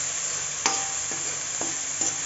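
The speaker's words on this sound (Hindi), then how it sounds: "टमाटर भी थोड़ा जहा भुन लवेंगे।" Tomatoes and chopped green chilli frying in a pan, a soft steady sizzle with several light spatula taps spaced through it, close and fairly quiet, with no talk.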